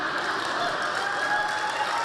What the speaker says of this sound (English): When I get that much applause before I speak, it makes me very nervous